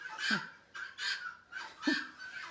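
Guinea fowl call nearby in a quick series of harsh, rhythmic chattering bursts, about five in quick succession, heard alone without talk.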